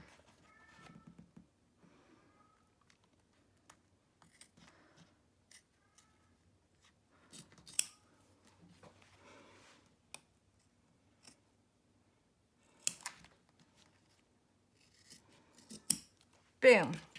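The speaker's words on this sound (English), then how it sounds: "if your scissors are really sharp, you'll be able to ride that line" Quiet, intermittent snips and rasping cuts of sharp scissors through zip-bag fabric, scattered sparsely with silences in between and a few louder clips near the end.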